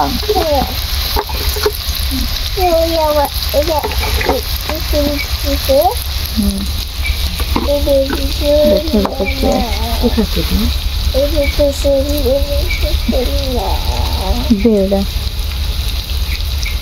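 Meat cooking with spices in a pan gives a steady, loud sizzle and frying hiss throughout, with occasional stirring, while people talk nearby over the cooking.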